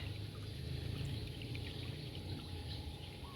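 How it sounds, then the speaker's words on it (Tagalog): Water poured by hand to irrigate plants on a farm makes a steady, soft rushing and trickling stream that holds unbroken throughout, with faint birds and insects in the background. "patubigan na natin to mga idol"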